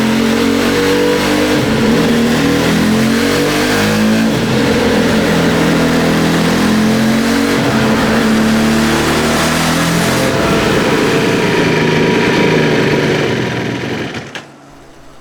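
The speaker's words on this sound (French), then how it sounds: "avant de la faire passer au banc pour contrôler que le moteur ne tourne bien et que tout est en ordre" An SXV motorcycle engine runs hard on a test bench, droning loud and close at high revs with rising and falling pitch, then cuts off abruptly near the end.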